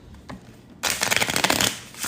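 Tarot deck shuffled in a riffle, a dense burst of rapid card flutters beginning after a faint tap and running loud and close for over a second before easing off.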